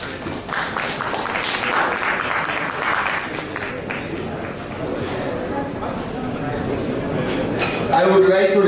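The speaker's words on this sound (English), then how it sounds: "Big round of applause." Sustained applause from a conference audience at a national sexology conference in Pune, steady and dense throughout, with a brief voice and clatter near the end.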